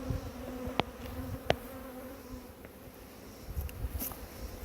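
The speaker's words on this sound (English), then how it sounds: "the fucking bees found the honey" Honeybees swarm around exposed honey and honeycomb during outdoor beekeeping, a steady low insect drone with a few sharp close buzzes as individual bees pass near.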